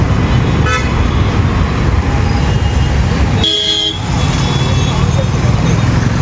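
Heavy traffic jam on a road in Hyderabad, heard from inside a cab: horns honk over a steady rumble of engines, with a short toot early on and a louder, longer blast midway.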